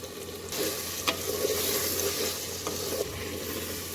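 Mutton sizzling and frying in oil in a pan for a curry, a steady loud hiss with stirring scrapes and a few sharp clinks of a utensil, no talking.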